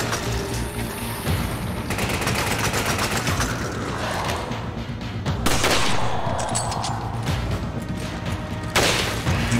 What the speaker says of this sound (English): guy is shooting.